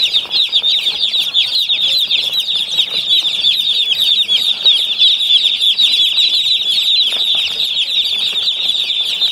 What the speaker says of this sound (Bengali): মুরগির বাচ্চাগুলো খুবই সুন্দর